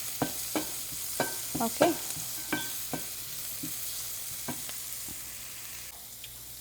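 Cumin seeds sizzling in hot oil in a home kitchen, with a soft steady frying hiss under sharp clicks and taps of a spoon stirring the pan, and a brief spoken word.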